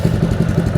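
A small Honda pump engine keeps running after a repair, a steady low, chugging rumble that is loud and close, heard briefly on its own.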